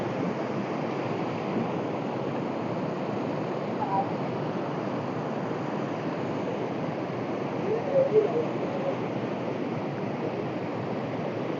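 Water rushes steadily at a dam, a broad continuous roar holding an even level throughout with no breaks, a couple of faint brief clicks surfacing near the end.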